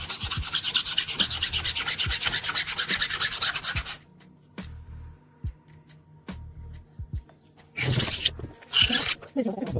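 A Solingen straight razor blade is ground on a Shapton sharpening stone, giving a loud, continuous rasping scrape that stops abruptly, leaving faint knocks and handling, then resumes in two short harsh bursts.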